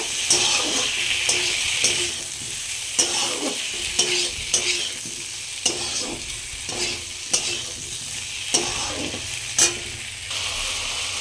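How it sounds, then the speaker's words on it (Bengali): Spice paste with chopped tomato being stir-fried in a pan for a tangra fish curry with potatoes, with a steady close sizzle and repeated scraping strokes of a spatula at an irregular rhythm, no talking. "দিয়ে দিলাম কুচিয়ে রাখা টমেটো দিয়ে এবার মশলাটাকে ভালো করে খুব ভালো করে কষিয়ে নেব"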